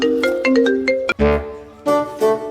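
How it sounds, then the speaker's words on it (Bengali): A mobile phone ringtone plays loudly and close, a bright repeating electronic melody with a short break midway before the tune resumes. "আমার একটা ফোন আছে, কথা কয়ালই।"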